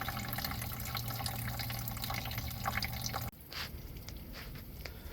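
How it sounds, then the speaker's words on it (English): Water splashes and trickles as it flushes through the coolant system of a 2011-2019 Ford Explorer Police Interceptor Utility, a steady gushing that cuts off abruptly into scattered drips and splatters. "as I put water in, there's still orange stuff coming out"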